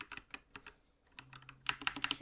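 Fast keystrokes on a computer keyboard, typing a search into Minecraft, come as quick bursts of crisp clicks in two runs split by a short pause, close and clear with no talk over them.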